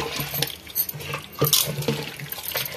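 Water is poured into a pot of country chicken curry being prepared as a thin soup, giving irregular splashing and sloshing bursts with light clinks, fairly close and without talk.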